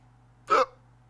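A single sharp hiccup from a person, brief and close, standing alone against a low steady hum.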